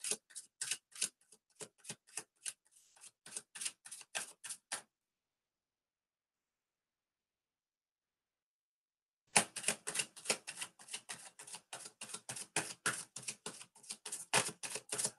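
Tarot cards shuffled in quick riffling bursts of sharp, dense clicks, a run of several seconds, then a long silent pause, then another longer burst of rapid card flicks, close and crisp with no talking.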